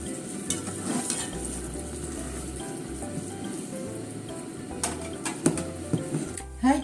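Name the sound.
yellowtail teriyaki sizzling in a frying pan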